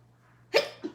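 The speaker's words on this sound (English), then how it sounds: "oh, I'm gonna sneeze again." A single sharp human sneeze bursts out abruptly, close and fairly loud, trailed by a short softer catch of breath, with a faint steady hum underneath.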